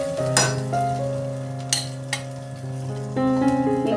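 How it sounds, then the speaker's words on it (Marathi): Moong dal tipped into a sizzling jeera tempering and stirred, a steady close frying hiss with sharp clinks of a spoon against the pan and a brief louder splash of sizzle near the end. "आता आपण त्यामध्ये डाळ टाकूया"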